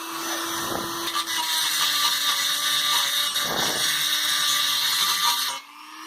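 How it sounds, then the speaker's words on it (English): An angle grinder works down a weld on an Xmark mower exhaust, a loud continuous whine with shifting pitch as the disc bites the metal, stopping abruptly near the end. "Grind on this thing a little bit more here."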